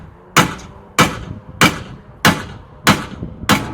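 A sledgehammer pounds a stuck part on a 1970s road sports race car in a paddock: six hard, ringing metallic blows at a steady, slightly uneven rhythm of roughly 0.6 seconds, loud and close, with brief decays between strikes.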